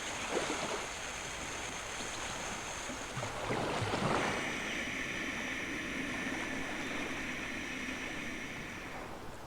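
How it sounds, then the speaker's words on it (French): Continuous rushing water, like waves washing on a shore, with a brief surge partway through and a faint steady tone underneath. "comme si tu étais au bord de la mer, à entendre les vagues"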